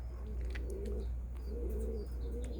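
Pigeons on a rooftop coo in repeated low, rolling phrases over a steady low rumble, with faint chirps and small flutters scattered above.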